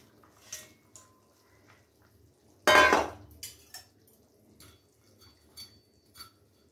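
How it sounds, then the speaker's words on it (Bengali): Fish is dropped into a pot of simmering Bengali fish curry, macher jhol with potato and pointed gourd, giving one sudden loud splashing clatter, then scattered lighter clinks and bubbling taps in a quiet kitchen. "তরকারি ফুটে গেছে, ওর মধ্যে এবার মাছটা দিয়ে দেবো।"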